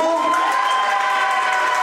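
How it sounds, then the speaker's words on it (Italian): A café audience in Bari cheers and applauds a competing couple at a La Corrida talent contest evening, a dense burst of shouting and clapping, loud and close throughout. "Rifacciamo un attimo un applauso per la terza coppia."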